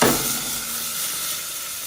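Onions frying in oil over a strong flame give a bright, hissing sizzle that starts with a sharp burst and settles into a steady crackle, close and alone.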